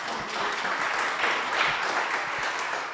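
An audience applauds a panel at a live-streamed university event, a dense, steady wash of clapping filling the room for about three seconds with no voices over it.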